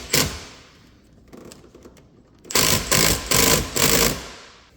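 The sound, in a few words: bolt being tightened on racing harness mount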